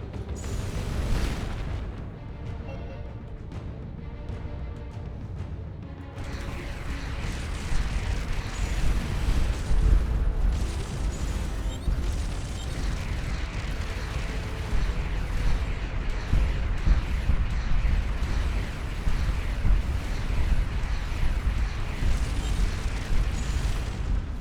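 Missiles explode during space combat in the video game Starcom Nexus, with a dense run of booms and bursts over a continuous rumbling game soundscape that grows louder partway through.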